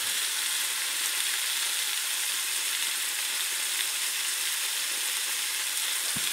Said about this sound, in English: Let it simmer away. I've got it down to a very low simmer.